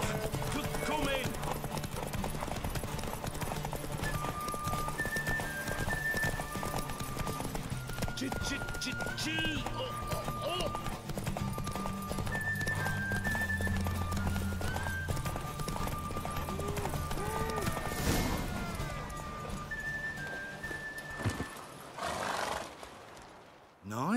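Horses gallop in a race in The Witcher 3, hooves clip-clopping steadily throughout with occasional whinnies, under game music and in-game voices, fading out near the end.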